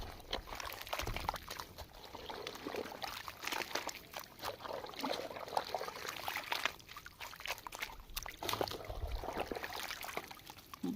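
Irrigation water pours into the furrow channels of a village cotton field, making a close, continuous trickling and gurgling flow with small splashy bursts and no talking.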